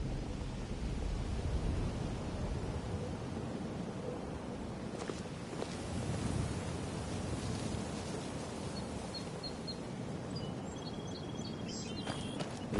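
Steady rain hiss with low rumbling weather in Skyrim, a continuous broadband wash of rainfall and distant thundery roll, with faint high tones near the end and no talking.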